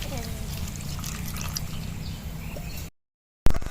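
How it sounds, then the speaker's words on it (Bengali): Raw mango being washed under water, a close, steady pouring and trickling splash lasting a few seconds, then a brief silence and a sharp clunk. "আমটা ধুয়ে নিচ্ছি।"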